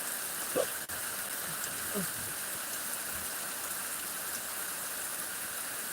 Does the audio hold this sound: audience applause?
no